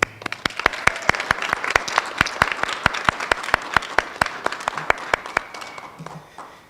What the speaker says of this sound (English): for another round of applause